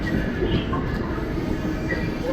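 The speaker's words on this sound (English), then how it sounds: "As it was pulling into the station, it met with an express train heading to Stamford." An Amtrak Northeast Regional train pulls into a station on the New Haven Line, a loud, steady rumble of wheels and cars rolling close by with faint squeals on top.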